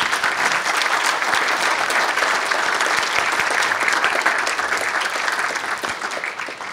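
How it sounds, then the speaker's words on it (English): An audience at the 2015 American Indian Festival of Words gives author Joseph Bruchac a dense, steady round of clapping that fills the room and fades slightly near the end. "Let's give Mr. Bruchac one more round of applause."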